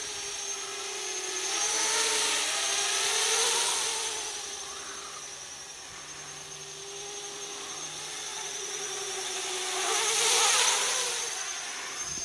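An MJX Bugs 8 Pro 250mm FPV racing quad drone flies, its high buzzing whine rising and falling as it swoops nearer and farther, steady and moderately loud throughout.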